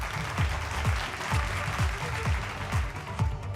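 An audience claps loudly and steadily at an award ceremony in Maharashtra, with a sustained wash of applause and some rhythmic clapping beneath it, and no speech over it.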